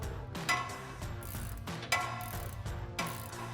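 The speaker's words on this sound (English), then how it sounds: "we can slide our 18mm ratcheting wrench onto our nut, then our 6mm Allen socket" An 18mm ratcheting wrench with a 6mm Allen socket loosens the lower shock nut on a Jeep Gladiator JT. It makes steady rapid ratchet clicking, with sharper clacks about every second, close and clear.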